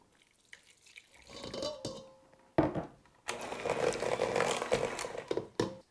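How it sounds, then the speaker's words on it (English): An electric mixer beats cream cheese in a bowl. It starts in short bursts, then whirs loud and steady, stopping and starting near the end. "I want to beat the cream cheese a little bit before I start pouring in the cranberry juice"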